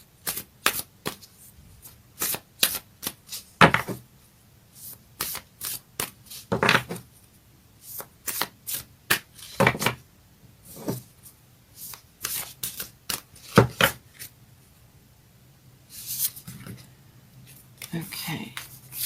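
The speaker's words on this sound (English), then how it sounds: "Let's get a Moonology card." A Moonology oracle card deck is shuffled by hand in repeated crisp riffling bursts separated by short pauses, close and clear, while someone speaks intermittently.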